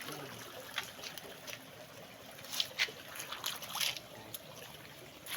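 Faint spring water trickling and dribbling steadily, with soft splashy bursts scattered throughout and no voices.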